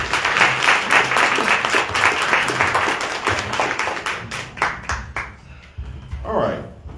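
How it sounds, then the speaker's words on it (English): Audience applause for political candidates at a Dallas candidate forum, a dense sustained clapping that thins out toward the end into scattered claps. "let's give our candidates a round of applause"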